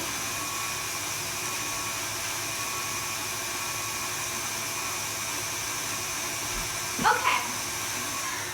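An electric mixer hums steadily while mixing biscuit dough for yo-yo biscuits, a constant moderate whirring drone with a brief clatter near the end and a short word spoken.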